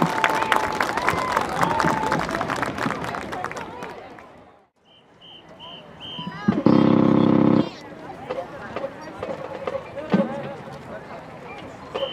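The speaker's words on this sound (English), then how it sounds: "please give a nice round of applause for our adjudicator for tonight, Mr. Travis Peterman." An audience applauds for the adjudicator at a high school marching band show in a stadium, with crowd noise and an announcer's voice before a brief quiet, then a burst of clapping and cheering.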